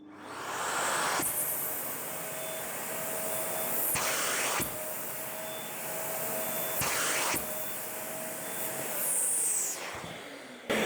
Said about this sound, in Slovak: Teraz vyskúšame saciu silu pri maximálnom nastavení vysávača Parkside Performance.